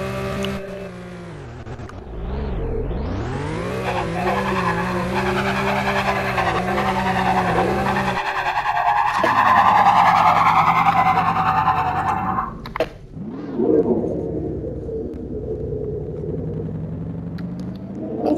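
A Porsche racing in the Roblox video game: a loud, continuous engine roar that climbs in pitch as it revs, dips, surges again and rises in a sustained high whine before settling, with no tire squeal clearly distinct.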